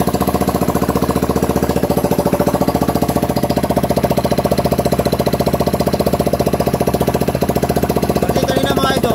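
A Rusi Rapid 150 motorcycle with a leaking rear axle oil seal runs close by, its single-cylinder engine chugging in a fast, steady, loud rhythm throughout with no break.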